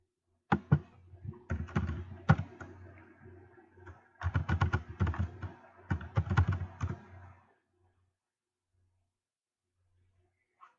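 Two bursts of fast typing on a computer keyboard, close and crisp, with sharp key clicks and heavier thunks, then the room goes quiet apart from a few faint low bumps.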